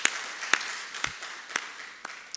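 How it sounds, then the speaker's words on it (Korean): A congregation at a Sunday worship service at Yangpyeong-dong Church claps hands in slow, evenly spaced strokes about twice a second, soft and slightly distant, with no voices over it. "박수 한번 합시다"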